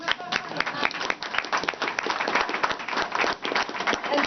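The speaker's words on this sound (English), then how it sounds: "we should actually clap for the President." A crowd applauds steadily, dense clapping from many hands filling the space at an even, lively level throughout.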